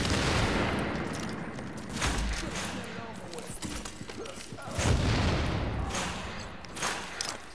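Bursts of gunfire rattle through a firefight in The Division's Dark Zone, loud and close with repeated volleys and heavy thumps, while a player talks over much of it.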